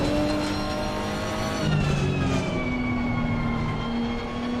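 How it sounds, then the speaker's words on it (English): A GT3 race car engine in a racing video game revs loudly, its rising and falling whine sweeping up and down through the gears across a few seconds, with no talking over it. "Loud car, brum brum."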